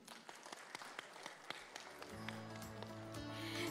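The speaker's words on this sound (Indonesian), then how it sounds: "Kita berikan sekali lagi tepukan gemuruh untuk semua." Audience applause at an International Women's Day ceremony: a sparse scatter of claps that gradually thickens into denser clapping, with music swelling in underneath toward the end.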